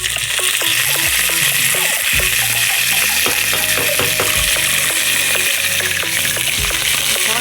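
Cumin seeds and curry leaves hit hot oil for a tomato dal, giving a loud, continuous crackling sizzle with dense spitting pops close up, and no talk over it.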